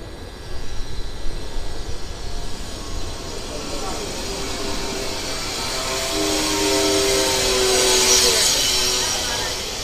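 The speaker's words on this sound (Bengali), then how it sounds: "ট্রেন ছেড়েছিল বাগনান জংশন" 18044 Bagha Jatin Express pulling out of Bagnan junction, a steady rumbling roar of the moving train heard from on board that swells gradually over ten seconds, with a whining tone rising near the end.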